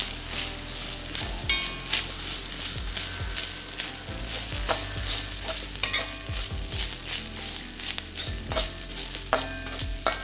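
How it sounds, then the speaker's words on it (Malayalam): Grated coconut being stirred into a ginger curry in a pan: repeated scraping stir strokes over a low, steady sizzle, close and continuous, with no talking. "ഇനി തേങ്ങ ചേർത്ത് കൊടുക്കാം. നന്നായിട്ട് ഇളക്കി കൊടുക്കാം."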